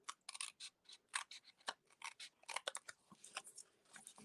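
Paper part being cut out with scissors for a trio punch craft project, a close, quiet series of crisp snipping cuts in irregular clusters with brief pauses between them.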